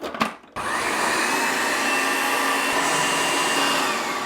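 Food processor with a reversible blade set to slice, whirring loud and steady as it cuts a cucumber, starting up abruptly after a brief clatter and running continuously to the end.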